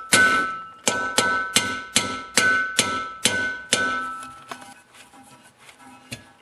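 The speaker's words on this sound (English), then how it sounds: "I'm going to grab my 1/4 inch punch and punch it right out." A hammer strikes a 1/4 inch punch to drive pins out of a seized snowblower impeller collar, about eight sharp metallic ringing blows in a steady rhythm, close and loud, then a few lighter, sparser taps.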